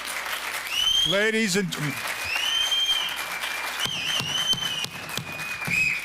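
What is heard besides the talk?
audience applause at a city commission meeting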